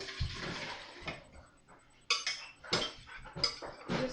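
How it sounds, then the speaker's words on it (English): Cabbage soup is ladled from a measuring cup back into a metal pot, giving several clinks and scrapes of utensils against cookware, with brief wet splashes between them, close up and moderately loud. "And I'm going to put this right back into the pot because it needs to be cooked"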